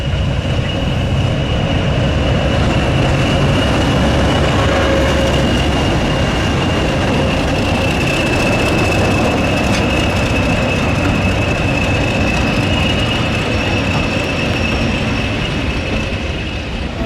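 Diesel locomotives on the West Somerset Railway at a diesel gala produce a loud, unbroken engine drone with a steady high whine running over it, close by and without pause or talk.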